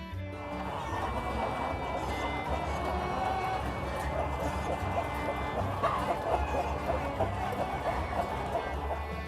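Hens and roosters cluck steadily throughout on a vast chicken farm housing thousands of birds, a dense, continuous chorus of overlapping calls with no pauses.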